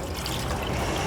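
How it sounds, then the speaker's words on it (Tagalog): Water poured into an empty evaporated-milk can while making pink gelatin, a steady, close, continuous trickle and splash of liquid throughout, with no talking. "lagyan lang natin ng tubig."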